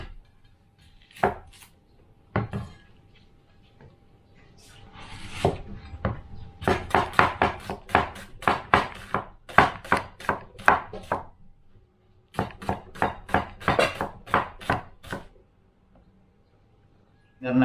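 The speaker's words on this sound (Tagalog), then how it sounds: "Maghihiwa tayo ng ating ipangpapalaman sa ating ihawin." Onion and homegrown tomato being chopped for a grilled tilapia stuffing: quick, close knife strikes on a board in steady bursts with short pauses between them, with a few brief spoken words.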